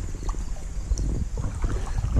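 Water being scooped into a container while catching small native Gambusia fish outdoors, a short wet sloshing burst close to the microphone over steady wind and open-air background.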